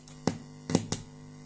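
A Tesla coil running its sound-signal function gives a steady low buzzing tone, broken by three sharp crackling snaps close together, with no speech.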